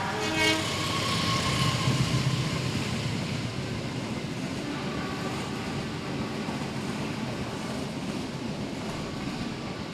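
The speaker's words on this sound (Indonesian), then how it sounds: "kereta lewat." A train rolls past with a loud, continuous broadband rumble and clatter, a horn-like tone sounding near the start before the steady roar carries on to the end.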